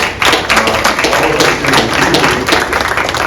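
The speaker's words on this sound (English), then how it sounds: "So a round of applause for all of us." An audience at an announcement of a solar energy deal breaks into applause, a close, dense patter of many hands clapping that holds steady for a few seconds.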